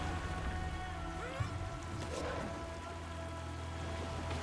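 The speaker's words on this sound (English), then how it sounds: "Light rain." Light rain patters steadily across the landscape in the online game Guild Wars 2, a soft continuous hiss of drops under faint game ambience and music tones.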